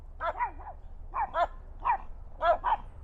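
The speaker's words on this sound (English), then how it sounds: "I don't know what the doggies are barking about" Dogs barking outdoors at a lakeside park, a series of sharp, yelping double barks repeating in quick pairs at moderate distance, clear over a low background hum.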